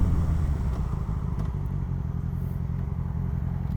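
A motorcycle rumbles at low pitch, close but fairly quiet, with light mechanical clatter as it brakes quickly to a halt at a red light.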